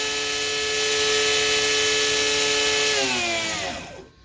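Electric kayak motor running flat out in open air, a loud steady high-pitched whine with strong harmonics that holds for about three seconds, then winds down in falling pitch to near silence.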